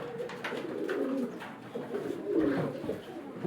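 A large male pigeon coos close by in soft, rolling, throaty phrases, several cooing bursts in a row with brief pauses between them.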